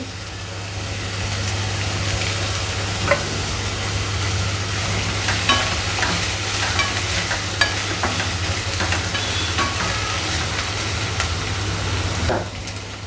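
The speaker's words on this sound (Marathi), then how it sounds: "इथे आता कांदा परतत आला आहे" Onion and curry leaves sautéing in a pan give a steady, fairly loud sizzle with scattered crackles and a low constant hum beneath, close and continuous, with no talking.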